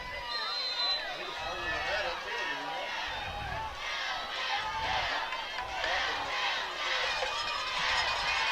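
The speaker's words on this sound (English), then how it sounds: "Hound fans on their feet hollering, "Go Hounds, go." Love the crowd." A large crowd of high school football fans for the Newport Greyhounds game against Atkins, on their feet cheering and hollering in a steady roar under a commentator's voice.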